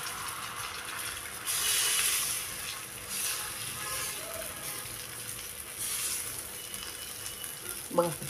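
Rice-flour ghavan batter cooks on an oiled griddle, giving a soft continuous sizzle that swells for a couple of seconds, then settles. A utensil clinks near the end.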